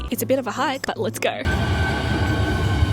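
A public transport train rumbles loudly and steadily from inside the carriage, starting abruptly after a voice speaks briefly at the start.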